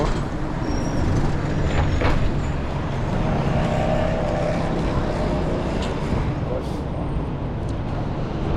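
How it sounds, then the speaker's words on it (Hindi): Steady street traffic hums all around in Bromley, London, with passing vehicles and engine rumble forming a constant wash of noise and no horns; faint voices mix in. "यहाँ इतना ट्रैफिक चल रहा है लेकिन कहीं कोई भी हॉर्न की आवाज़ नहीं है"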